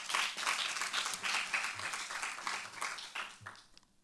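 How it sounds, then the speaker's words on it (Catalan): Another round of applause from a small audience at a university social-media awards day, crisp clapping with a fairly close, uneven texture that fades out near the end. "un altre aplaudiment, sisplau"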